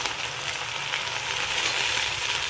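Veg Manchurian sautéing in a pan with green chutney, soy sauce, tomato sauce and vinegar gives a steady, moderately loud frying sizzle that holds evenly for a couple of seconds with no talk.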